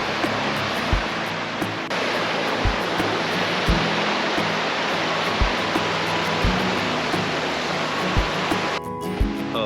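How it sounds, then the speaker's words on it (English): Waterfalls and a river along the Mt Bell loop trail at Moulton Falls in Southwest Washington rush with a steady, broadband roar of falling and flowing water, loud and constant, with a few faint low thumps underneath. "You can see some waterfalls and a river."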